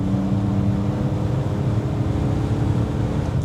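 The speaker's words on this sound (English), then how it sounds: "this is not an M3, so it's not the S54, but it's an M54" A BMW M54 naturally aspirated inline engine runs with a steady, deep droning hum at constant revs, heard close and continuous from inside the car with no talk.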